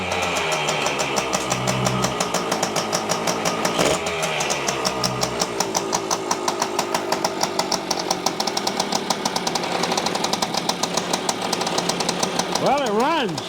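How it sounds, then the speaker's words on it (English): A 1973 Yamaha CT3 175 motorcycle engine runs steadily with a major exhaust leak at the head or cylinder, giving a loud, rapid ticking and popping rhythm that holds throughout with slight rises in revs near the end. "It sounds like a major exhaust leak up at the head,"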